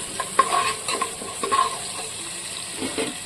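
Green peas fry in a hot pan for a paneer and peas curry, with steady sizzling under repeated scraping stirs of a spoon, close and fairly quiet, with no talking.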